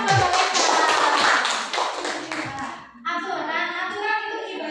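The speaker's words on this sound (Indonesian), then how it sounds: "Tepuk tangan buat Mbak Reksa." Classroom group clapping in the opening three seconds, a dense patter of many hands close by, then the applause stops and a teacher's voice takes over.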